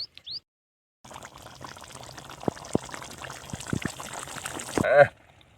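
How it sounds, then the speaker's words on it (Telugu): Water is poured into a Telangana-style gongura chicken curry in a steady splashing pour lasting several seconds, with a few sharp clinks and a louder burst at the end before it cuts off. "కొంచెము నీళ్ళు యాడ్ చేసుకుందాము"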